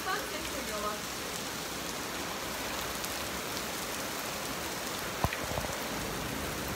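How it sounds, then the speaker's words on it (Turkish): Heavy, steady rain pours down outdoors, a dense unbroken hiss of drops striking surfaces. One sharp knock rises briefly near the end, and no one speaks. "Aşırı yağmur. Çok yağmur. Bayağı yağmur."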